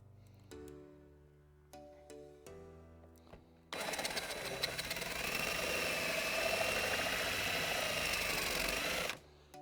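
After a few light knocks, a continuous high whirring grind starts abruptly as tool tips cut into the surface of a DJ console, steady and close for several seconds before stopping sharply.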